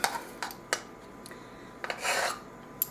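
A measuring spoon scoops into baking powder and is levelled across the top, making soft, close, dry scrapes and rubs, a few brief scratches and one longer drag, in an otherwise quiet setting.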